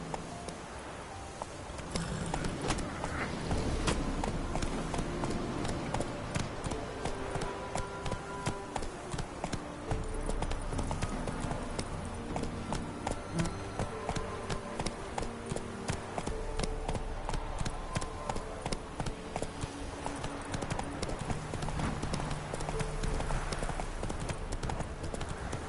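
Roach, a horse in a video game, gallops continuously, the clip-clop of hooves beating in a rapid, steady rhythm that stays close and prominent throughout, with faint music and occasional voice beneath.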